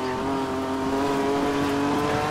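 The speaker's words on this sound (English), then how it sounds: "Right now, it sounds like I've got a mailman's exhaust on that thing." A four-cylinder rally car in Dirt 3 revs hard with a loud, steady buzzing exhaust drone that holds throughout.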